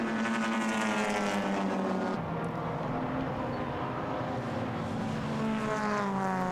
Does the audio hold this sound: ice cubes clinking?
no